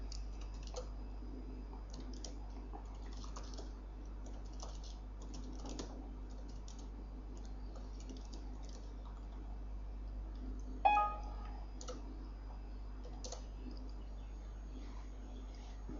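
Steady keyboard typing of an Oracle SQL query on a computer, soft continuous clicks over a low hum, with one brief louder knock partway through.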